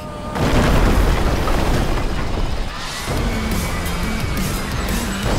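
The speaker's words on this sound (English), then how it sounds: "With multiple consecutive explosions. Building stability compromised." Buildings blown apart in the Screamride video game, a loud boom followed by continuous rumbling crashes and debris, a second blast partway through, with no talk.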